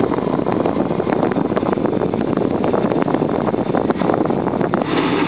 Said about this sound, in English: You can hear the fan blowing nice and strong